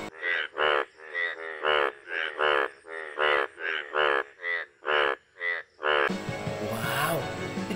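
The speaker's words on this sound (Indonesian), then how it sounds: "lucu sekali suara kodoknya nyaring" A toy frog character box croaks loudly in a rapid rhythmic series of about a dozen buzzy bursts, followed by a burst of noisy rustling.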